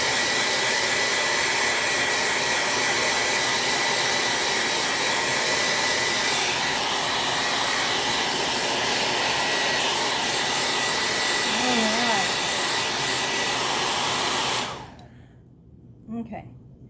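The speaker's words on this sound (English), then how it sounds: "now I'm going to blow dry this just a little bit" A hair dryer blows steadily on a decorative towel freshly inked with Chalk Couture paste, a loud continuous whooshing roar lasting about fifteen seconds before cutting off to near quiet with a faint brief sound after.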